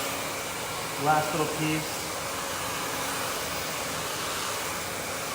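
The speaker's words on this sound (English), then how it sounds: "just polishing out as much as I can with the brush blow dryer" A brush blow dryer runs steadily while a layered bob haircut is polished smooth, a constant airy whir close by, with a brief spoken phrase over it early on.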